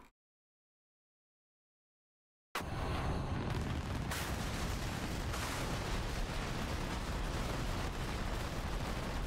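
Cluster bomblets going off over a runway in the DCS M2000C flight simulator: after a silent start, a sudden loud, dense rumble of overlapping blasts that continues steadily to the end.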